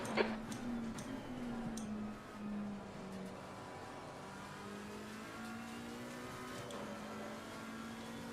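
Race car engine in Assetto Corsa Competizione during an online league race, a steady droning tone that shifts pitch through gear changes and revs, with faint ticking clicks over a continuous background.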